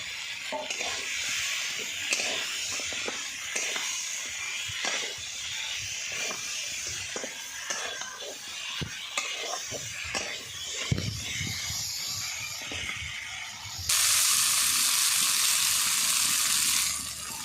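Tengra fish dropped into hot, well-fried spice paste in a pan, setting off a steady sizzle and hiss with scattered crackles and pops, which swells into a louder, brighter frying burst near the end.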